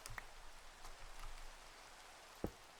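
Soft, steady rain hiss in a Minecraft-style video game, quiet and constant, with a couple of faint clicks and one brief sharper tap near the end.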